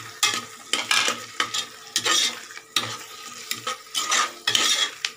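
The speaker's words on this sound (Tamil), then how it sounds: "பொடியை போட்டு 2 தடவை நல்லா மிக்ஸ் பண்ணி விட்டுருங்க." A spoon stirs ground spice powder into sizzling oil in a pan while cooking chicken biryani, with rhythmic scraping strokes repeating close up over a soft frying hiss.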